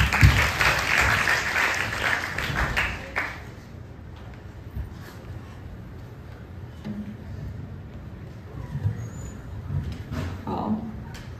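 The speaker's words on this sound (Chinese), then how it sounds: "我们掌声欢迎他。" A crowd claps at a welcome tea party for new members with performances, a burst of applause lasting about three seconds that fades into quieter room murmur and scattered sounds.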